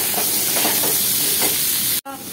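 Potatoes and carrots frying in a pan, giving a steady, fairly loud sizzling hiss that runs unbroken for about two seconds, then cuts off sharply and resumes more quietly.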